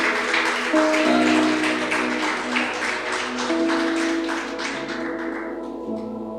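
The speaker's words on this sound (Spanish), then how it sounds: "Dale un fuerte aplauso al Rey de Reyes y Señor de Señores" Applause from a church congregation honoring the King of Kings, dense clapping mixed with sustained music tones, fairly loud and steady before thinning toward the end.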